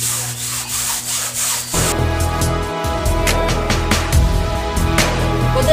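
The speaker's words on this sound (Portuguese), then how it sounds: "E venho com a vassoura." A broom scrubs a rug wetted with soapy water, giving a steady, close rasping and rubbing sound with repeated strokes throughout, loud and without speech.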